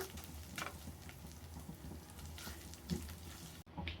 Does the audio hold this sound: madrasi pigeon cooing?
no